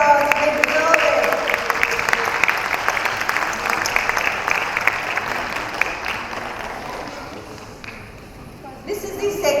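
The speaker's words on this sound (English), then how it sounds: "please give them a huge round of applause. They deserve it." Audience applause rings out at an annual cultural festival honouring young artists who made paintings, a dense sustained clapping that fades slightly toward the end.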